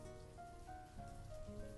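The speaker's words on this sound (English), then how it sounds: "rain noise in this game can be so loud, and it's like, it sounds like somebody put their microphone in the shower" Loud, steady rain noise from the video game Banished, a dense hissing patter like a running shower that fills the whole clip without pause and with no talking.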